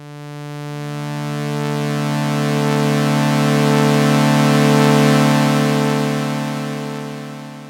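A bright sawtooth synth pad chord, set to the Omnisphere JP8 saw with a long release, swells in slowly, building to full volume and holding, rich and buzzy with steady harmonics.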